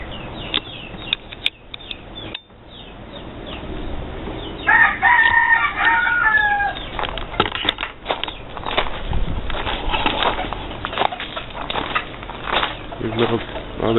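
Chickens and a rooster crowing by their coop outdoors, a clear crow rising midway among clucks and bird calls, with someone talking over the steady outdoor background.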